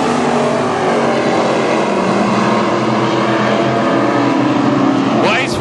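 Heat-race cars roar around the Granite City Speedway dirt oval, a loud continuous engine drone with shifting pitch as the pack runs close together, with a race announcer calling the action over it.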